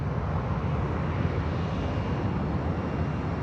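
A Garuda Indonesia airliner in retro livery passes at an airport, giving a steady, loud jet engine roar with broad rumbling noise and no distinct change in level.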